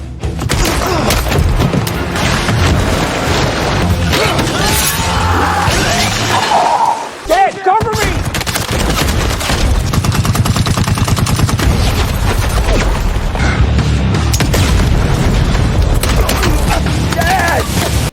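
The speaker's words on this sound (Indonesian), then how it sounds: "tanpa sengaja mereka menginjak bom tanam di tempat mandi bola. Dan David menggunakan senjata puter untuk melindungi Hutch dan menghabisi anak buah Lendina." Explosions and rapid minigun fire in an action scene from the 2025 film Nobody 2, loud and nearly continuous blasts and shattering over dense noise, with talk running over parts of it.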